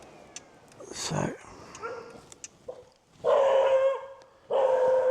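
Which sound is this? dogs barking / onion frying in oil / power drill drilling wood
dogs barking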